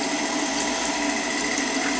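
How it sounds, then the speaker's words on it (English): Shower water running steadily while a dog is bathed, a continuous close broadband spray hiss with no breaks. "You having a shower?"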